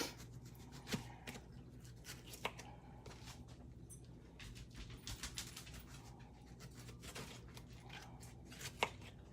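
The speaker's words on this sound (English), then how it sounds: "I'm just gonna use my Pampered Chef knife real quick instead of that quick slice to get it out, because this does a real good job of cutting them up" A Pampered Chef knife cutting chickpea cranberry sandwich filling on a board, quiet rapid chopping and scraping strokes spread irregularly across the clip, close but faint, with no voices.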